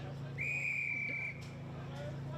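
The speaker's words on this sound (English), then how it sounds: "eventually the umpire blows a whistle for a ball up right in front of the Southern Metro coach's box" Umpire's whistle at a junior Australian rules football interleague match, one sustained blast lasting about a second over steady crowd and ground ambience.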